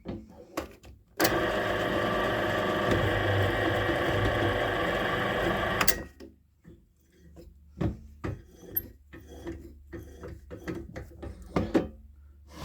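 A tapping head cutting a thread in a part held in a six-jaw lathe chuck, a loud continuous grinding, rasping run of about five seconds, followed by scattered clanks and handling knocks.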